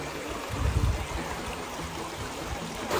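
A clear mountain stream runs over large boulders in a shaded creek, making a steady, full rushing wash with low gurgles, close and continuous throughout.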